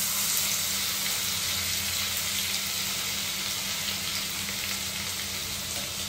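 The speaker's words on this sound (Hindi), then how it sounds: "तो अभी जो है हमारा तेल गरम हो चुका है, तो इसके बाद हम लोग डालेंगे लहसुन को।" Garlic dropped into hot oil for a chicken masala handi sizzles in a steady, loud, continuous frying hiss with no one speaking.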